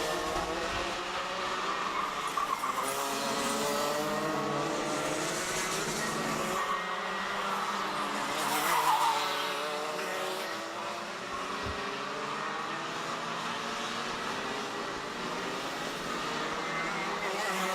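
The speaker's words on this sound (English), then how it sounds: "Clean drive up front, Sebastian Boyd, Dominic Lincoln, Jaden Elli" Junior Max racing karts run at a club race meeting with a continuous drone of kart engines rising and falling as they pass. A faint commentator voice sits under the noise.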